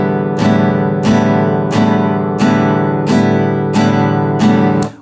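An acoustic guitar strummed in a simple beginner pattern: seven evenly spaced full strums about two-thirds of a second apart, each ringing and decaying into the next, close and loud with no talking.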